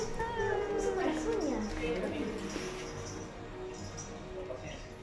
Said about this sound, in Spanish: Qué gatito más lindo.